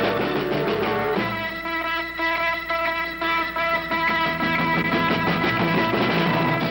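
A recording plays on the radio, a full band with sustained organ chords, drums and bass, loud and continuous throughout with no talking over it.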